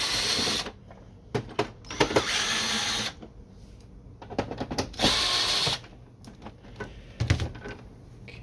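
Screws being backed out of an HP Deskjet 2546 inkjet printer casing with a power driver, several short buzzing bursts of the driver separated by pauses and small handling clicks, close up with no talking.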